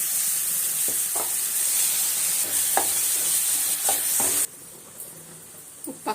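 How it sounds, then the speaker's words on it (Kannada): Chopped tomatoes hit frying onions in a pan while cooking an egg curry, giving a loud, steady sizzle with occasional stirring clicks. The sizzle drops sharply to a quieter simmer partway through. "ಈರುಳ್ಳಿ ಚೆನ್ನಾಗಿ ಫ್ರೈ ಆಗಿದೆ ಈಗ ಟೊಮೊಟೊ ಒಂದು ಮೂರು ಟೊಮೊಟೊ ದೊಡ್ಡ ಇತ್ತು ಚೆನ್ನಾಗಿ ಸಣ್ಣಕ್ಕೆ ಕಟ್ ಮಾಡ್ಕೊಂಡಿದ್ದೀನಿ"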